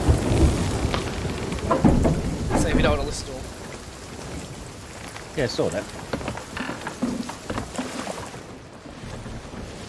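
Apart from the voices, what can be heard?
video game storm, rain and thunder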